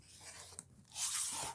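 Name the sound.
trimming quilt fabric square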